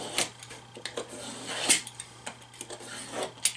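A razor knife scoring a Kydex plastic sheet, with faint scraping strokes and small dry clicks repeating at irregular intervals, close by and quiet, with no talking.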